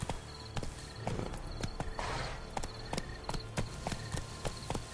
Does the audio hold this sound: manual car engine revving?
no